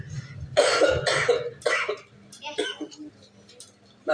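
A few harsh coughs come in quick succession close by, followed by some muffled talking.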